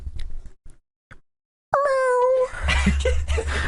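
A person mimics a cat's meow with one drawn-out, wavering vocal cry after a few short soft noises, then talking and laughter follow close to the mic.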